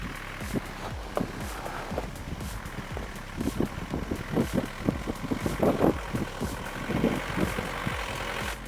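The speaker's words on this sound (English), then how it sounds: "People rave about the 300 TDI engine for a reason. Simple, rugged, and loud." A 300 TDI engine runs with a rough, rugged, tractor-like clatter, a steady low rumble broken by irregular knocking pulses, heard fairly close and without speech.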